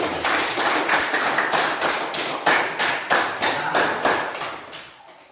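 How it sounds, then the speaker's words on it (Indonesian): Students in a classroom clap their hands in a rhythmic pattern, about a dozen sharp, evenly spaced bursts of clapping that grow slightly sparser and fade at the end. "tepuk tangan dulu"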